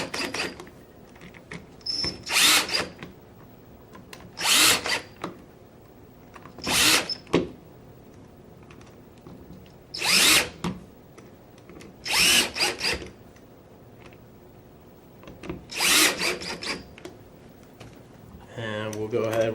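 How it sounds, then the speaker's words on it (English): A power screwdriver drives the receiver screws on a Tippmann Gryphon paintball marker in seven short, loud bursts spaced a couple of seconds apart, close up, with quiet handling in between. "from there we will tighten down our receiver screws"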